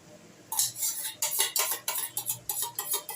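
A utensil scrapes and clacks repeatedly against a pan as thick yogurt is stirred into cooking chicken for chicken kanti, a series of close, sharp metallic strokes in an irregular rhythm.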